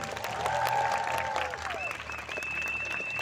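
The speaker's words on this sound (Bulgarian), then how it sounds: "Аплодисменти за завършващите!" Sustained applause from a crowd at a school graduation ceremony, steady clapping throughout, with some cheering and tonal whistle-like sounds mixed in.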